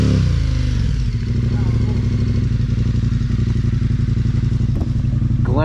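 A light motorbike engine in a video game drones steadily with a buzzing, slightly clattery tone, holding a fairly constant pitch throughout at close range with no talk over it.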